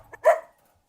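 A single sharp puppy bark, close and clear, preceded by a small yip, then silence.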